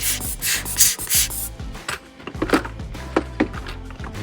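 A small milling tool scrapes and grinds at the metal dial feet of a broken watch, in short rasping bursts and rubs with uneven pauses, close and moderately loud.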